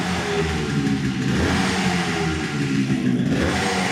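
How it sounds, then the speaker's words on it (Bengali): A second-hand Yamaha RX motorcycle engine runs and revs up close, a loud, continuous throaty drone with small surges in pitch and level. "আমি যদি পাটা ফালা একবার স্টার্ট দিয়ে দেখাই, তেল থাকলে স্টার্ট হবে, সাউন্ডটা দেখুন"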